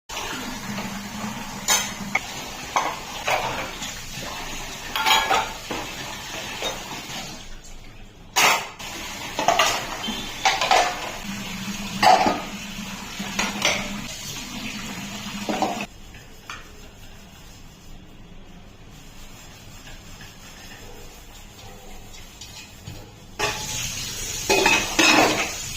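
Dishes, pots and utensils being washed in a home kitchen, with repeated clinks and clatters of metal and crockery, running water and scraping, loud and close, with a quieter pause midway before the clattering resumes.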